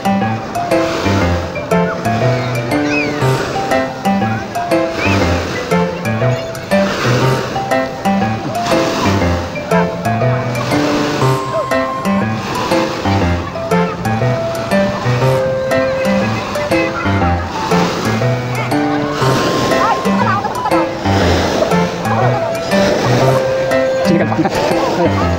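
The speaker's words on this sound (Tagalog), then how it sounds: "Hinalo na ng alon." Ocean waves roll and break on a beach in San Juan, Batangas, a continuous rushing surf heard close and loud, partly buried under voices and other overlapping sounds.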